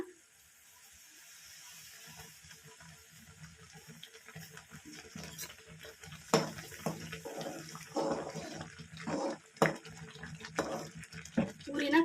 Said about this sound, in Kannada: ಈಗ ನೀರು ಕುದೀತಾ ಇದೆ